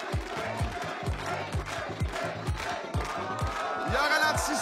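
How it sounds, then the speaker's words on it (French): Studio audience at a French game show, La poule aux oeufs d'or, chanting in a steady rhythmic beat with loud crowd noise and rising cheers toward the end. "La foule scande le doublé."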